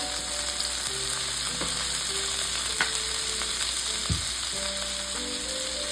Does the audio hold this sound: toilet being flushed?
no